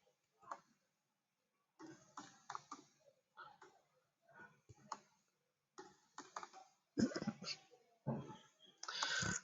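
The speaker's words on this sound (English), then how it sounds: "So bear with me whilst I type that out." Bursts of computer keyboard typing, irregular clusters of fast key clicks, close and fairly clear, with a few pauses between runs and some louder clattering near the end.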